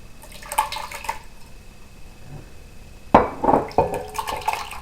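Tomatoes, carrots and other soup ingredients tipped into a Dutch oven, wet splashing and plopping in two bursts with a quiet gap between, close and clear, no talking.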